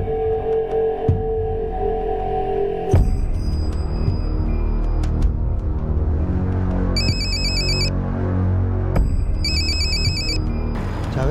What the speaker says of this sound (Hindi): जावेद का फ़ोन है